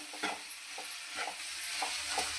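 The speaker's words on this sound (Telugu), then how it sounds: "ఇలా తిప్పేసుకొని ఒక ఐదు నిమిషాలు మూత పెట్టి మగ్గించుకుందాం" A bitter gourd fry is turned in a pan, with a few soft scraping stirs over a low, continuous sizzle, close and fairly quiet.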